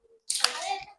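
A few sharp hand claps, used to alert a prayer leader, sounding close and loud in a quick burst of about a second.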